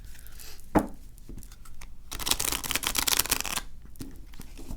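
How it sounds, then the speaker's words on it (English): A glossy tarot card deck gets shuffled by hand, a sharp initial snap followed by a rapid riffling burst of slick cards, close and crisp, with no talking. "Let's see how they shuffle."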